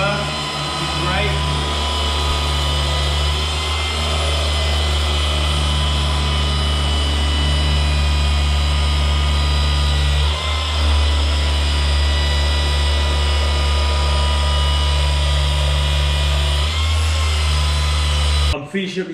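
Milwaukee M18 Fuel cordless polisher running steadily on the hard clear coat of a Mercedes, a constant loud motor whine and buzz held for the whole stretch, with a voice talking over it.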